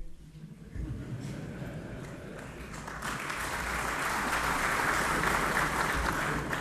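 Applause from members of the Moroccan parliament during a speech by French president Hollande, starting faintly and swelling into a broad, sustained roar of many hands in a large chamber.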